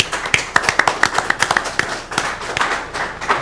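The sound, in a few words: audience applause at a meeting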